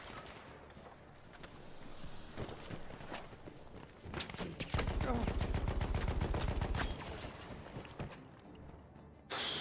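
Machine gun fire in the video game Battlefield 1, a sustained rapid burst mid-scene amid scattered shots and footsteps, with a voice talking over the battle.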